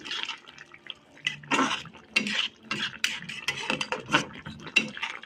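Wet, irregular scraping and sloshing as a prawn and potato curry with ghee is stirred in a pan, with spoon clinks and liquid squelches coming close and fairly quiet in uneven bursts.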